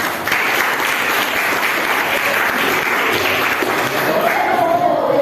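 Steady, dense applause from a group in a classroom teaching practice session, continuous clapping throughout without pause, fairly loud and close.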